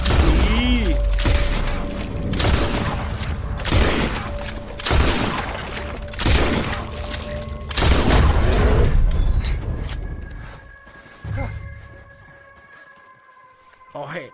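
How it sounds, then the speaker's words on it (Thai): Gunfire in Red Dead Redemption 2 comes as a run of loud, regularly spaced shots with booming tails, followed by mechanical clicks and quieter game sounds, while voices speak over the action. "ยิงมันเลยอาเธอ"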